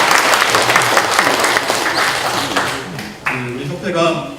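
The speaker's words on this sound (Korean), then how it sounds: "박수는 크게 치셔야 건강이 좋습니다" A church congregation at a Sunday worship service breaks into loud, dense applause that thins out near the end. The clapping fills the clip up close, with a voice mixed in under it.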